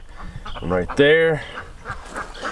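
Welsh Harlequin ducks in a chicken tractor let out a pair of loud, nasal quacks close by, set against softer background noise.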